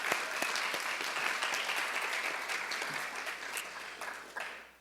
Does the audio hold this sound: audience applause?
yes